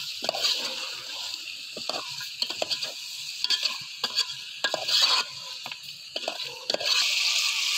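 Country chicken is stirred in a cooking pan, giving irregular scraping strokes and light sizzling over a soft background hiss, close and with no talk.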